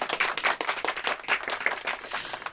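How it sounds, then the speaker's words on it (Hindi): Audience applause at a stage show, many hands clapping in a dense, steady patter that rises and dips slightly, moderately loud and sounding alone without speech. "इस जुगल जोड़ी के लिए जोरदार तालियां"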